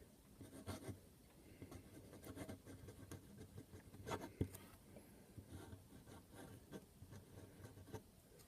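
A Sailor Professional Gear fountain pen with a hard fine nib scratches across paper, faint close-up strokes with audible feedback in an irregular writing rhythm.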